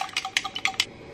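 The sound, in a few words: mixing salad dressing ingredients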